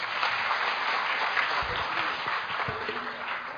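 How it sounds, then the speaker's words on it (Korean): An audience at a social welfare seminar applauds to welcome a presenter, a steady moderate wash of clapping with a few low thumps, somewhat muffled and distant. "박수로 모시겠습니다."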